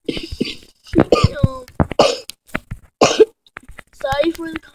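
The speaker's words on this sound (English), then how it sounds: "Sorry for the coughing." Several short, harsh coughs burst out close to the microphone during a Halloween gaming session, mixed in with nearby speech.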